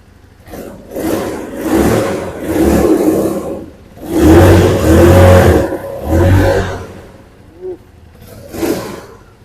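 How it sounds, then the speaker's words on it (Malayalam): A Benelli motorcycle engine revs up and roars in several long surges, dropping back between bursts, loud and close, with a brief lighter blip near the end. "ഒന്ന് സ്റ്റാർട്ട് ചെയ്ത് ഇത് റേസ് കൊടുത്തേ, ആക്സിലേറ്റർ കൊടുത്തേ."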